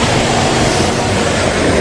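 A waterfall in Kurobe Gorge, approached close enough to pass beneath it, gives a steady, loud broadband roar of rushing water that holds without a break for the whole short stretch.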